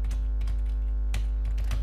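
Quick keystrokes on a computer keyboard as a search query is typed, a short run of close, crisp clicks over a low steady hum.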